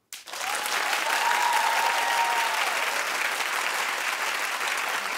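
A studio audience bursts into sustained applause after a brief silent moment, loud and even for around five seconds, many hands clapping together with no voices on top.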